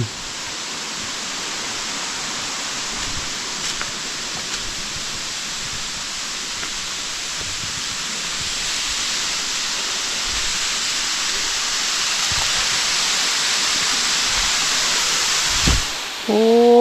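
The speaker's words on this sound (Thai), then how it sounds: "น้ำตกสวยงาม" A waterfall roars as a dense, steady rush of falling water, loud and unbroken, with a brief change near the end.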